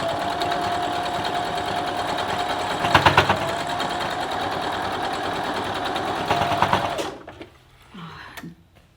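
A sewing machine stitching a quilt block runs steadily with a fast, buzzing mechanical whir, speeding up briefly before it stops, leaving quiet handling noises.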